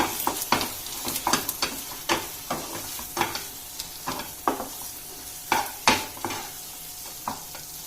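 Custard halwa stirred in a pan, a spoon scraping and tapping in an uneven rhythm of clear close strokes over a soft sizzle, with no talking.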